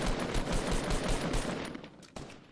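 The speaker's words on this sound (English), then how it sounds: "He's shooting at you, I guess." Rapid gunfire in Fortnite Battle Royale, a close, loud burst of repeated shots that tapers off, followed by a single sharp report near the end.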